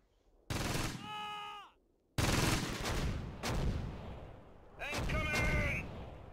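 In a video game, MG-42 machine guns fire in loud bursts, with a short pause between the bursts, set against a battlefield scene with no speech.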